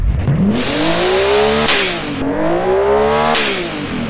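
A race car engine revs hard twice, pitch climbing then dropping, with sharp turbo wastegate chatter and whoosh on each lift-off; loud and close.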